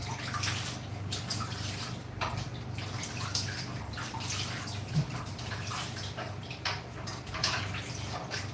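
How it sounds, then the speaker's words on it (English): Vegetables are washed by hand in water in a pot, giving a steady swishing, sloshing and dripping close by, with no talking. "I'm washing all the vegetables"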